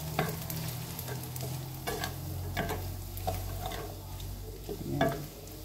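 A spoon stirs carbonara in a pan with repeated scraping strokes over a soft sizzle, close and fairly quiet, with no talking.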